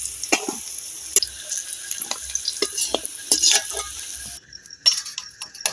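Potatoes fry in a pan while being stirred, so crackling sizzle mixes with repeated close scrapes and taps of a spatula, then the sound cuts off sharply near the end.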